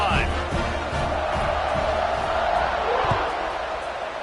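Football stadium crowd roaring and cheering during a kickoff return, a dense continuous wall of voices at steady loudness with scattered shouts throughout.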